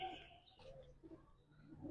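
Soft pigeon coos and bird calls from pet pigeons let out and sitting in the sun, low and fairly distant, with background household noise throughout.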